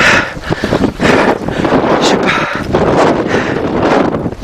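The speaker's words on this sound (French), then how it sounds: "c'est de l'orage, de la neige, du vent." Blustering wind in a snowstorm high in the mountains at 4400 metres: loud, continuous gusting roar and rough buffeting against the microphone, rising and falling without pause.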